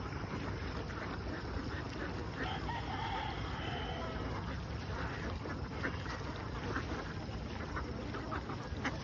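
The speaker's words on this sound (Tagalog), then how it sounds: "Gusto na ang umakyat ng mga itik." A flock of ducks quacks amid dense, constant outdoor noise, their calls blending into a busy, steady wash of sound with no clear pauses.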